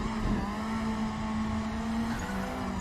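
A Chevy Cruze and a Honda race car corner hard in close battle at a NARR Friday night race, a steady droning engine hum with a sustained tonal whine, moderately distant.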